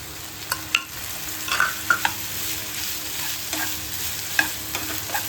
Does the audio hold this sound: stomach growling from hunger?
no